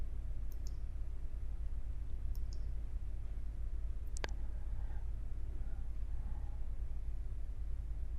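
Sharp mouse clicks on a trading interface, a few isolated taps spaced over several seconds against a steady background hiss, close and fairly quiet with no talking.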